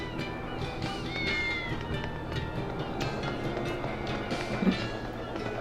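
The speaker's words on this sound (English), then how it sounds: "It's a cat." A cat meows in the video game Tales of Berseria, brief mews over steady game background sound and music.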